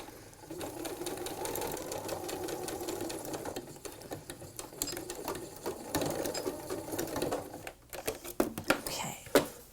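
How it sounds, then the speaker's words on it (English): A sewing machine runs in close, fast stitching bursts as it sews along a marked line on quilt fabric for a piano key border, pausing briefly and then ending in short stop-start stitches. "Just sew directly on that line."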